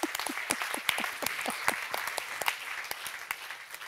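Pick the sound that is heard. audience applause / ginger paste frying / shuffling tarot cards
audience applause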